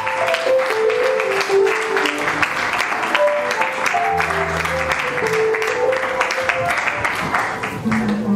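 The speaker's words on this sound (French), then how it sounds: "nous allons quand même acclamer pour la gloire de notre Seigneur" A congregation at a memorial service for Papa Lazaro Tavares applauds in dense, sustained clapping that fills the room, with voices mixed in among the crowd.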